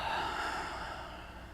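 A deep breath drawn in during a guided meditation, one continuous broad breathy wash that stays close and fairly loud before slowly easing off, with no talking.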